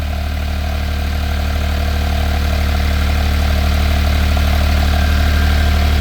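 Air-cooled engine of a 1970 Porsche 911T idling slightly high, a loud, steady, even mechanical drone heard close with constant fan and engine whir throughout.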